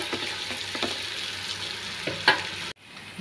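Chopped onions, green chillies and salt sizzle in a pan while being stirred, with a steady frying hiss broken by scraping strokes of the spoon, close and fairly loud, cutting off abruptly near the end.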